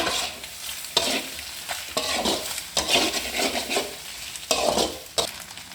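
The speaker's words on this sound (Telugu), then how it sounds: "1 స్పూన్ పెప్పర్ పౌడర్ వేసి ఫ్రై చేయాలండి, అంతే." Egg pepper fry with pepper powder sizzles in a pan, close and fairly loud, while a spoon stirs it in repeated scraping strokes and occasionally clinks on the metal. No one speaks.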